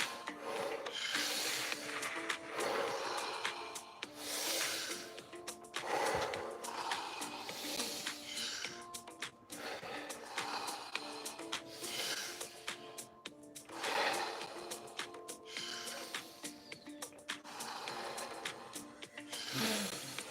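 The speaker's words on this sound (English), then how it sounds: "No pause between inhalation and exhalation." Deep circular breathing with no pause between inhale and exhale, a rhythmic rasping rush of air repeating in long waves, close and steady, with no talking.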